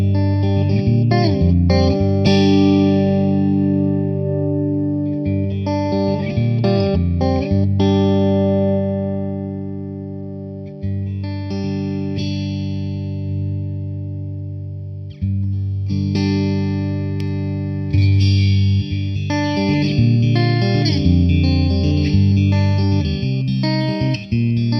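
Electric guitar set up for an acoustic-like tone with scooped mids and bright, airy highs, playing sustained chords and picked notes steadily and loudly throughout, alone with no voices.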